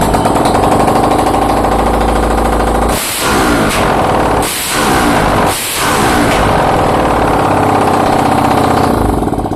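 A Bajaj NS200 BS3 motorcycle engine in good condition, with no smoke, runs loudly at close range with a steady, throbbing idle and three brief dips in the middle.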